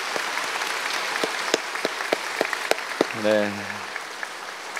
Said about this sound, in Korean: 우리 한번 축복과 사랑과 격려의 박수 한번 하시면 좋겠습니다